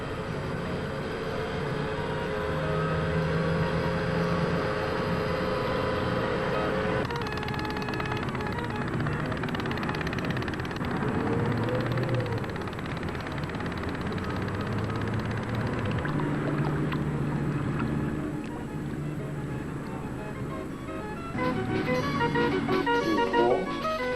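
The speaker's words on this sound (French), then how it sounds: "L'eau qui rentre dans le bateau est chauffée dans un clinquant qui produit le bruit." A toy pop-pop steam boat runs steadily, its small heated-foil boiler pulsing water in and out, giving a continuous mechanical puttering with shifting tones and no talk.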